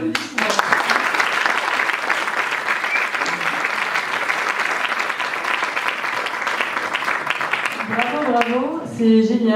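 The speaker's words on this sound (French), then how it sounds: "Allez, ça vaut encore des applaudissements." Audience applause at a presentation, a strong continuous burst of clapping that fades near the end as a voice starts speaking.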